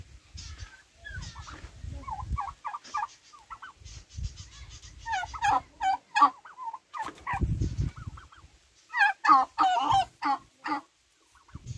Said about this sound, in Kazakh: Міне, түйе тауық.